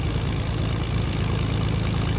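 A propeller airplane engine drones steadily and loudly in Fortnite, a dense constant roar with a low pulsing throb and no pauses or voices.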